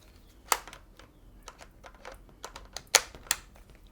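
Several Godox MF12 macro flash units snapping onto a ring mount: sharp, close plastic clicks in an irregular series, a few louder than the rest, with no talking.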